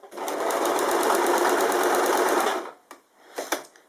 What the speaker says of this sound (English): So you pick your angle and you simply start to sew.